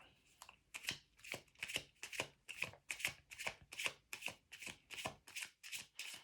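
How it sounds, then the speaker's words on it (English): A tarot deck is riffled and shuffled in a quick, steady run of about a dozen crisp paper flutters, close and clear, with no talking over it. "So let's pull another card for the Knight of Wands."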